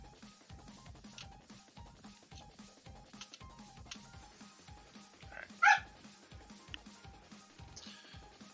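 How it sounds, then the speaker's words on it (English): A dog playing with a child at home gives a sharp, loud yip or bark midway, set against a faint, steady rhythmic thumping in the background. "my kid's playing with the dog"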